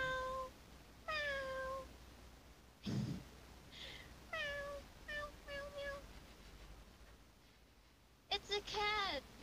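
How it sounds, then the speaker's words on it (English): A cat meows several times, each call short and rising and falling, fairly close and clear against a quiet room. "It's a cat."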